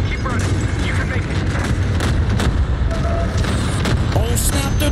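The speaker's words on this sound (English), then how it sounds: "There's too many explosions." Dense, continuous explosions and gunfire fill a Call of Duty Vanguard battle, a loud rumbling barrage that never lets up, with a voice talking over it.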